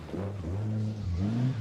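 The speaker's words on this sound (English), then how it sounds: "Our first car into the Forest Rally stage for 2024. It is the Alpine." An Alpine rally car on the Goodwood Forest Rally stage, its engine revving and rising in pitch through gear changes, loud and close, accelerating past on its own without talk.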